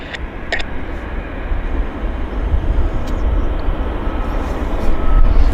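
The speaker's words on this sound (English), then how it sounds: "A320 taxiing out quite nicely" An Airbus A320 jet taxis out at Vancouver airport, a loud, steady low engine rumble that swells slightly toward the end.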